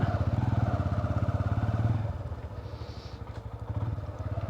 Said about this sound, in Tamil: நீங்கள் தேர்ட் கியரில் நீங்கள் மூவ் பண்ணிங்கன்னா கூட வண்டி வந்து அப்படியே ரெஃபைண்டாக மூவ் ஆகுது